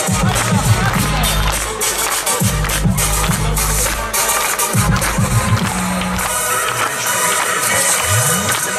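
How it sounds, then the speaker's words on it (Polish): A crowd at a 3x3 basketball event in Koszalin cheers and claps for a ball freestyler, a loud sustained roar over music and an amplified voice, with whoops rising throughout. "wielkie brawa dla niego!"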